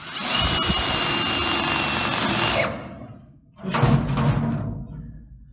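An Einhell TE-CD 18 Li BL brushless cordless drill drives a screw into roughly 1.2 mm sheet metal: a loud, steady whirring grind for about two and a half seconds, a brief pause, then a second shorter burst of drilling.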